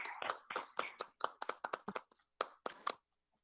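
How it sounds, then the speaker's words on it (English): A dozen distinct, close hand claps come from one or two people at a virtual awards event. They are spaced irregularly, some single and some in quick pairs, and stop into silence after about three seconds. "Let's give her a round of applause."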